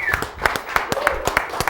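A small audience claps after a studio music performance, a quick run of sharp, evenly spaced hand claps heard up close for a couple of seconds.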